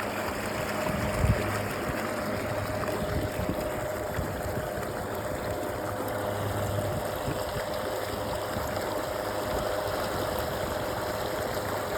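Newport Vessels NK 300 electric kayak motor running while the kayak steers on open water, a steady low hum and faint whine beneath continuous water rush and wind noise, with one brief bump.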